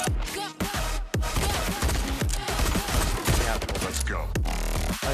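Rapid sharp gunshots from the VR shooter game Pistol Whip, a dense fusillade of close, loud bursts played over continuous game music.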